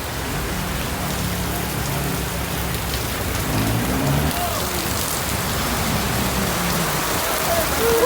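Heavy rain pours steadily in Quezon City, a dense continuous hiss of drops on surfaces, loud and close, with faint voices underneath.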